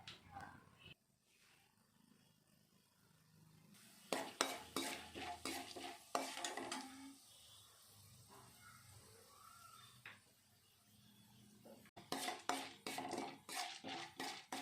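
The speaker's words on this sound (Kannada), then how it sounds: "ಎಣ್ಣೆ ಬಿಸಿ ಆದಮೇಲೆ 1 ಸ್ಪೂನ್ ಕಡಲೆಬೇಳೆ ಹಾಕಿ ಫ್ರೈ ಮಾಡ್ಕೊಬೇಕು." Chana dal frying in hot oil in a pan, a faint sizzle with clusters of metallic spoon scrapes and clinks as it is stirred, quiet and close.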